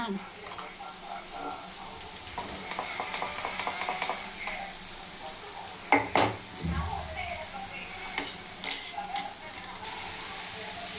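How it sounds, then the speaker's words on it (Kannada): Green chilli, ginger and garlic paste frying on low flame, a soft background sizzle broken by clinking utensil and pan knocks, with quiet talk at times. "ಹಸಿಮೆಣ್ಸಿನ್ಕಾಯಿ ಪೇಸ್ಟ್ ಎಲ್ಲ ಹಾಕಿದ್ದೀನಿ. ಸ್ವಲ್ಪ ಫ್ರೈ ಮಾಡ್ತಿದ್ದೀನಿ. ಸ್ವಲ್ಪ ಲೋ ಫ್ಲೇಮ್ ಇಟ್ಟಿದ್ದೀನಿ ಈಗ."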